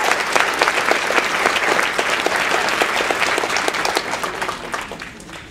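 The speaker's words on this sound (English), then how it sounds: "if you would put your hands together and give him a round of applause" Seminar attendees give a round of applause, a loud, sustained burst of many people clapping together that stays full and even before tapering slightly near the end.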